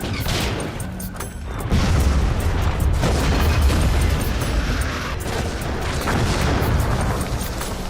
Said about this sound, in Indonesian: kembali membombardir pertahanan Western Platte dengan tembakan bom dari kapal perang Schles.